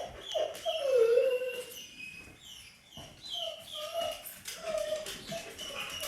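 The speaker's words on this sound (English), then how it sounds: "You can hear Ella crying because she can't get up the steps because she's a big wimp." Ella, a big dog stuck at the foot of the steps in a log cabin, whimpers and cries in several high, wavering whines with short pauses between them, close by and fairly soft.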